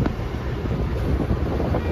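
Cold mountain wind on the Kedarnath trek buffets the microphone as a steady, loud roar with rough gusty texture throughout, with no talk over it.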